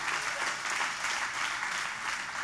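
A church congregation applauds together in a steady, dense wash of clapping that holds evenly from start to finish, with no voices rising above it.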